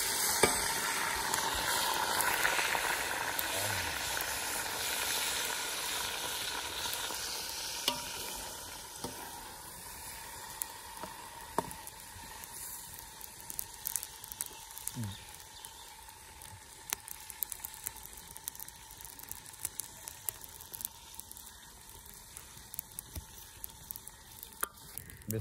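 Onions frying in a pot for a village-style matar pulao, a continuous close sizzle with occasional stirring clicks and pops over about twenty-five seconds.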